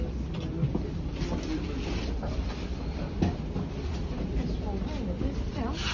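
A train pulls into Harpenden station, a steady low rumble with faint rail clatter heard from on or near the platform, while people talk quietly nearby.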